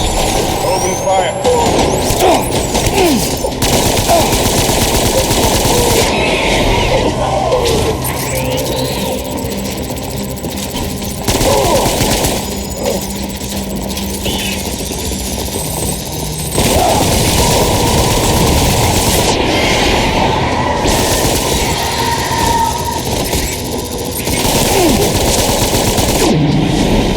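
Sustained machine gun fire in the video game Death Stranding, a dense loud barrage running nearly continuously with brief shifts in intensity, layered with heavy engine-like rumble and other battle noise.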